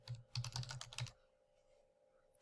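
Quick run of keystrokes on a computer keyboard while typing a gradebook item name, about a second of close, clear clicks followed by quiet and one final tap.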